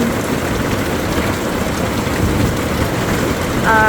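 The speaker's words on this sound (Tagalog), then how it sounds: "Lumakas lalo naman yung ulan ngayon." Heavy rain pours steadily in a dense, continuous roar with no pauses, loud and close, during a flood in Deca Homes Meycauayan, Philippines.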